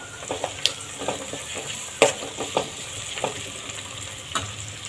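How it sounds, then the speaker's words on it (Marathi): Finely chopped tomato sizzles in hot oil with bay leaf in a dhaba-style Maratha veg curry, a steady frying hiss broken by several sharp stirring scrapes and taps of a spoon against the pan. "बारीक चिरलेला 1 टोमॅटो व्यवस्थित सगळं आपल्याला तेलामध्ये ते शिजू द्यायचं आहे"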